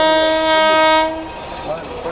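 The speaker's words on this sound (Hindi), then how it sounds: "सामने आ रही है पूजा सुपरफास्ट" Pooja Superfast Express, an Ajmer–Jammu Tawi train, arriving at Delhi Cantt railway station sounds a loud sustained horn for about a second, then the rumble of the passing train and station noise follow.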